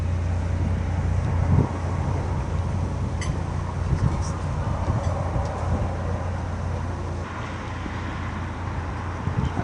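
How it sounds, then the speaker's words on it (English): Road traffic on the A51, heard from a narrowboat on the canal near Barbridge Junction, forms a steady distant rumble and hiss, with wind buffeting the microphone and a low engine drone throughout. "That's the A51. You can hear the cars."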